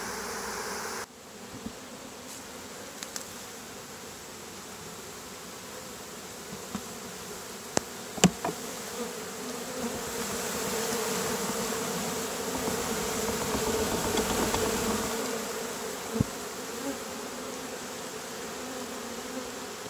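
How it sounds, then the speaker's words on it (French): Honeybees fan their wings at the entrance of a hive holding a captured September swarm, a soft continuous buzzing drone with a few faint clicks and knocks, swelling slightly toward the latter half. "les abeilles sont à la porte et battent rapidement des ailes"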